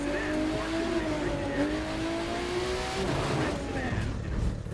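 A Porsche rally car in The Crew 2 revs hard with its tires squealing under acceleration, a loud, close engine whine sliding upward over a few seconds before easing off.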